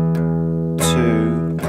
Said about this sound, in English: you can just catch the open strings with a strum